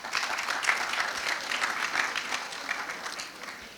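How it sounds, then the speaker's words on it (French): Audience applause at a school graduation ceremony, a dense, fairly faint patter of many hands clapping, heard from a distance throughout. "Applaudissez-vous."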